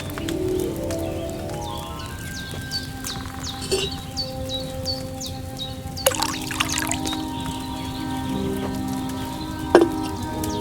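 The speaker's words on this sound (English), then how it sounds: "So, what did you pour in there? Water." Water trickling as it is poured into a vessel in the medieval video game Kingdom Come: Deliverance II, a soft steady pour with light patter and a few small clinks, accompanied by faint birdsong.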